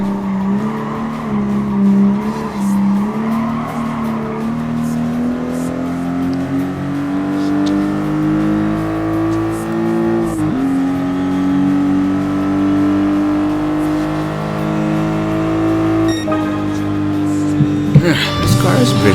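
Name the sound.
Toyota GR Supra RZ engine and tire squeal, Gran Turismo Sport video game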